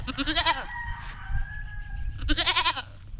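Two loud bursts of a young goat's wavering cries, near, just after an injection on a farm, separated by a quieter stretch with a faint steady tone and low rumble.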